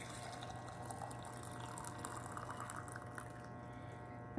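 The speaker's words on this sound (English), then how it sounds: "So this is just some boiling water. I'm going to pour it into my mocha pot." Boiling water is poured into a moka pot, a quiet, steady liquid trickle and splash that runs on evenly without any talking.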